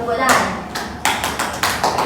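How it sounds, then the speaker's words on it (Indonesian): Students in a classroom microteaching session clap in a handful of separate sharp bursts, irregular and close, with a voice talking in between. "Coba tepuk tangan."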